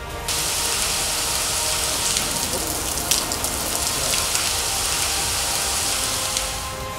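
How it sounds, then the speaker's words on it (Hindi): Heavy monsoon rain pours down in Pakistan as a dense, steady hiss of drops striking surfaces, loud and continuous throughout with no voices. "तेज बारिश के बायस गली मोहल्लों में कई फुट पानी जमा हो गया।"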